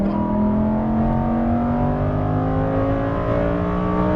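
A Lamborghini Huracan Performante on a track, its engine revving steadily upward under full throttle, loud and close, a continuous rising tonal roar for about four seconds with no talk.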